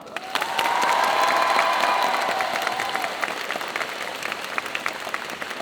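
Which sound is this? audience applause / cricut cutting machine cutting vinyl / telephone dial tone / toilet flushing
audience applause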